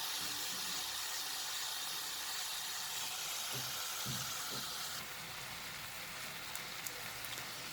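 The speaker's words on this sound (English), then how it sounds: "I will saute and cook this till my tomatoes gets cooked" Tomatoes and spices sautéing in a pan for a cabbage potato curry, giving a steady soft sizzle and hiss that runs the whole time, with a few faint clinks of stirring partway through.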